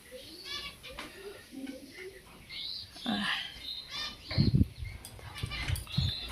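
Frightened lovebirds huddled in a cage let out faint, scattered high chirps while a person speaks softly nearby, with a few louder low bumps toward the end.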